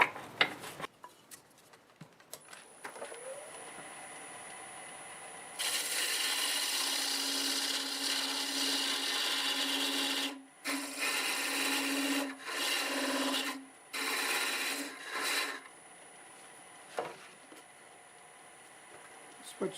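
A wood lathe gouge cuts a tenon on a small turned wood piece, giving a steady high scraping whir that runs for several seconds, then breaks into a few shorter cutting passes.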